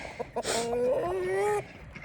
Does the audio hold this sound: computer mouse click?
no